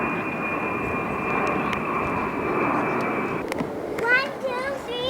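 An F-86 jet aircraft drones steadily overhead with a sustained engine whine, fairly distant and even, before children's voices break in near the end.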